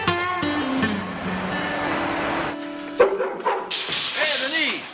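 A dog barks several times in quick succession after a stretch of sustained tones, with people talking over it in a domestic comedy scene.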